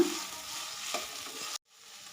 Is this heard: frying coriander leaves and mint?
yes